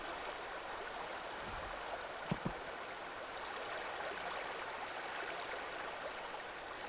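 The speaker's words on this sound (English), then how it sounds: "We did have a waterfall." Steady broadband rush of a waterfall in the video game Enshrouded, a continuous even wash of flowing water with a couple of faint low knocks partway through and no talk.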